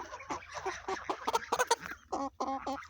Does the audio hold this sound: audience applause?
no